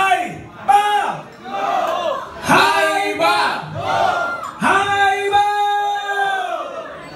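Party crowd whooping and cheering in loud bursts, with shouted voices rising and falling over several seconds.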